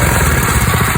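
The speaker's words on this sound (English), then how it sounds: "So I got the engine running," A revived Predator 212 small engine, fed from a cactus cooler fuel tank, runs on its stock exhaust, a loud close rapid chugging putter with a steady pulsing rhythm.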